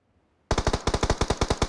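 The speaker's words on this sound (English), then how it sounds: "Got hit with some shots as he was jumping across there." Rapid automatic gunfire in a battle royale video game, a steady burst of about a dozen loud, evenly spaced shots that starts suddenly after a near-silent moment.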